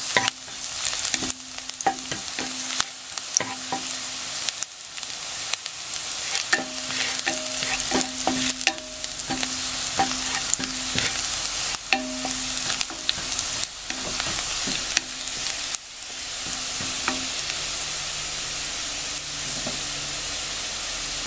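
Onion and garlic frying in hot cooking oil, with steady close sizzling and occasional stirring scrapes and clinks from a spatula throughout, for a crab dish cooked in coconut milk.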